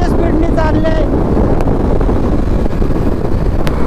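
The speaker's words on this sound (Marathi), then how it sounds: "आज बेकार म्हणजे बेकार वारा आहे रे" Strong wind buffeting the microphone while riding a motorbike at speed toward a hill station, a heavy, unbroken low rumble that stays loud throughout, with a short burst of voice near the start.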